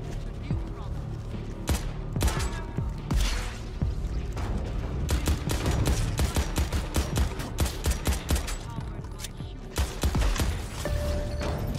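Rapid bursts of gunfire in the video game Crackdown 3 as players shoot at generators, sharp repeated shots and clattering fusillades crowding together, loud and close throughout.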